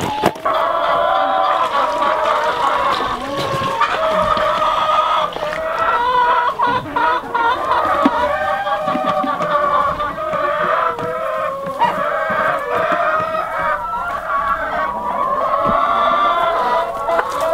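Hens and a rooster on a farm cluck steadily throughout, with drawn-out crowing phrases rising over the continuous flock chatter, close and fairly loud.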